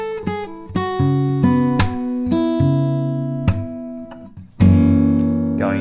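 Fingerstyle guitar chords are picked in a slow, steady pattern over a metronome click, each note ringing and decaying, with a sharper final chord near the end; no voices.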